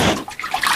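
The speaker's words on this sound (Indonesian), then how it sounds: "Saya coba cuci muka biar seger." Clear stream water splashes in quick, close sloshes as someone scoops it up to wash their face outdoors, all within a brief moment and with no voice.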